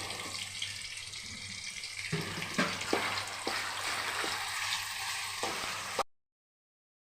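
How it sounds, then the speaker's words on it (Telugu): Chicken fries in a pan, a steady close sizzle and crackle with a few sharper pops and stirring scrapes, continuing for about six seconds before cutting to silence. "ఈ చికెన్ ఫ్రై చేసుకుంటాను"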